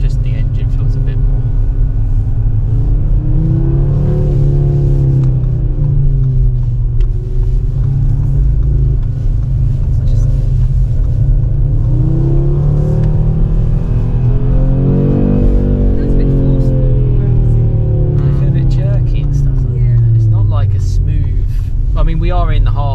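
A 2022 Audi RS3 in Performance mode accelerates on the road, its deep engine note rising and falling through the gears under a constant cabin rumble, while people talk inside the car.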